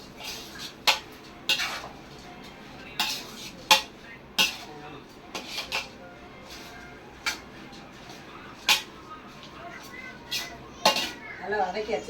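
Food being stirred and sautéed in a cooking pot with a metal ladle, sharp scraping clanks at irregular intervals over a low background, while people talk nearby.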